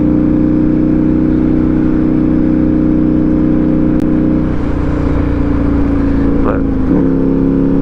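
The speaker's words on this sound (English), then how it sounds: "you guys very much so can hear the exhaust of my bike" A motorcycle's exhaust drones steadily and loudly while riding up Cottonwood Pass in the mountains, its note shifting slightly partway through, with wind rush around it.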